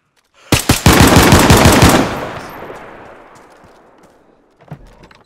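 Machine gun fire in the video game DayZ: a loud, close burst of rapid shots lasting about a second and a half, trailing into a long echoing decay, then a faint thud.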